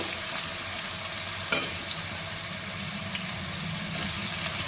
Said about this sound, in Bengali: কেটে আলুটা আগে ভেজে নেব